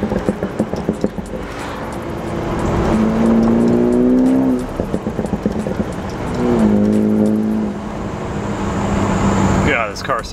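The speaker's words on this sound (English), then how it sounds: "for a four cylinder, this car sounds amazing." A four-cylinder car running a Bootmod3 stage 2 flash tune revs twice, each time climbing and then falling back. The engine is heard close up, under and between stretches of people talking.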